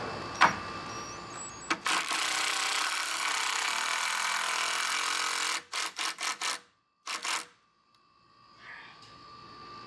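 A power drill drives double-threaded screws into wall studs, a long continuous whir followed by several short bursts and a brief final spin, close by and fairly quiet.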